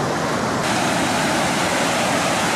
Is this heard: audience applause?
no